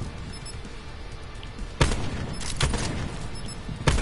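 Gunfire from a sniper rifle in a PS4 video game, with a quiet stretch followed by several loud, sharp shots and booming reports in quick succession close up, with no voices.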